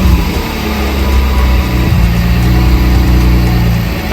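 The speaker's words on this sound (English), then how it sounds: "we can watch Jack start the car." A BMW E36 M3 engine runs at a steady idle just after starting, a continuous low, even rumble held close and loud throughout with no talk over it.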